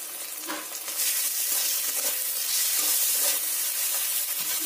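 Garlic paste and onions frying in a pan for biryani, a loud, dense sizzle that swells after the first second and holds steady with occasional stirring scrapes, no talking.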